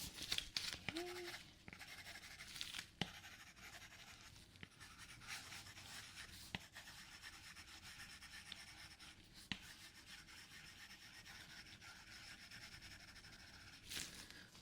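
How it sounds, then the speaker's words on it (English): Pen writing notes on paper during a close-up medical exam roleplay, soft intermittent scratching strokes, faint and intimate, with occasional louder taps and rustles between strokes. "I am just gonna write that down"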